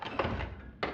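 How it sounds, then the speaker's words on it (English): Foley door effects sound as a couple of dull, close thunks and knocks, a muffled impact followed by a sharper second hit near the end. "door cracking sounds,"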